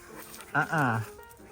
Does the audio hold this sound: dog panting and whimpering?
yes